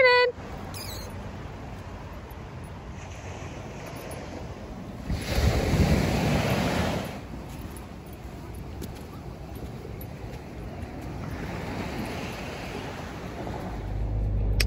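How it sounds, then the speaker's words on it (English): Ocean waves break on a beach on a windy morning, a soft steady wash swelling into a louder surging rush midway and again near the end, with wind buffeting the microphone and a brief voice at the start. "He's still so unsure about the waves."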